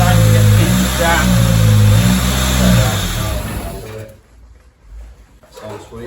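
A newly built car engine, run for the first time, revs loudly with rising and falling harmonic tones, then drops away abruptly into near quiet before a faint low stir returns.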